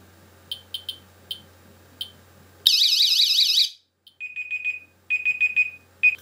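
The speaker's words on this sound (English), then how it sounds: "As you could tell, the LED and the alarm only go off for a split second" A Raspberry Pi radiation warning system's alarm sounds in short bursts: a few sharp beeps, then a loud warbling electronic siren for about a second, followed by several rapid high-pitched electronic tones, close and clear with no talk.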